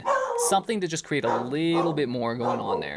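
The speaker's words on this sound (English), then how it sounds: "Apologize for my dogs absolutely losing it in the background." Pet dogs barking and yipping loudly at a passerby outside a house, repeated sharp barks and whimpers overlapping someone talking over them.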